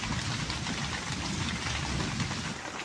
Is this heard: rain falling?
yes